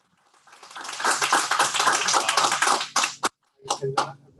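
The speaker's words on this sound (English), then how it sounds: "Round of applause for the tech team that made this happen." A room of people at a morning Toastmasters meeting break into a round of applause for the tech team, dense close clapping swelling then breaking off into a few scattered final claps.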